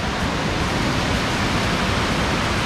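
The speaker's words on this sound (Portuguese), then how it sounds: "Tem três quedas aqui, tem uma cachoeirinha pequena lá." Small waterfall at a refuge in Rio dos Cedros, a constant dense rush of falling water, loud and close, steady from start to finish with no voices.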